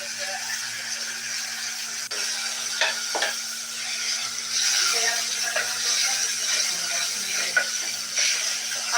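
Sizzling of blended onion paste frying in a pan, with scraping stirring strokes and occasional clatter, a faint steady hum beneath, no clear talk.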